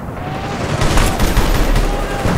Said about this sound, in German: Oh, da wird geschossen.